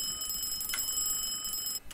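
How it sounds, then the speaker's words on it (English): Fire alarm test in an Aerosoft Twin Otter in Microsoft Flight Simulator: a steady electronic alarm tone with bright, evenly spaced high harmonics sounds continuously and loud, cutting off near the end. "so for example the fire alarm check in the middle, press the test switch. You'd hear the alarm sound"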